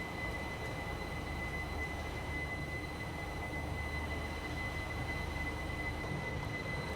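A train departing Udaipur City railway station, with a steady, loud rumble of rolling wagons and wheels and a faint high squeal running throughout, close and continuous with no talk.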